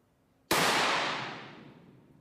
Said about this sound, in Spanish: Este disparo puede compararse con un disparo efectuado a menor distancia.